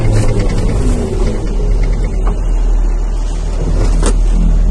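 A MaxxPro armored personnel carrier's engine drones loudly and continuously with a deep, heavy rumble, heard up close from inside or beside the vehicle with no talking over it.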